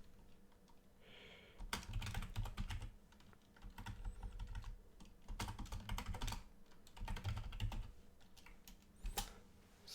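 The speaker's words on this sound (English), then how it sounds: "I'm typing in the chat here." Rapid clicking on a computer keyboard comes in bursts and pauses at close range in a quiet room, with no voices.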